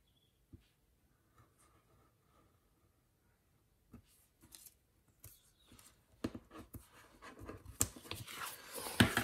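Scissors cut through paper for a planner page, starting as faint scattered snips and building into louder, denser rustling cuts toward the end, close by and with no speech.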